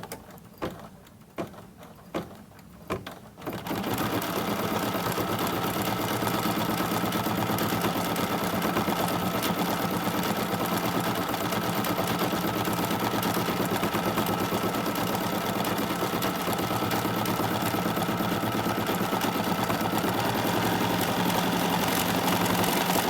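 A quilting machine stitches a quilt block, starting after a few light clicks and then running as a loud, steady, even mechanical hum and rattle that continues unbroken to the end.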